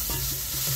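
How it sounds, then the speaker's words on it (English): Onions and garlic sauté in a home kitchen pan, a short burst of continuous sizzling with a faint utensil scrape. "I'm just gonna saute these onions up."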